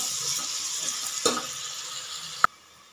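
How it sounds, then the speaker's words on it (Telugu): A soft, steady sizzle of ingredients frying in oil for a mutton curry, faint and close, with a couple of sharp clinks from a utensil against the pan. "చూడండి, ఇవి ఫ్రై అయినాయి, ఇంకా కొంచెం ఫ్రై అవ్వాలి."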